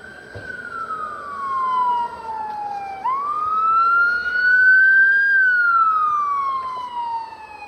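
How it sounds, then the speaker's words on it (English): A loud ambulance siren wails close by, sliding down and then back up in long, smooth sweeps over low traffic rumble. "More ambulances."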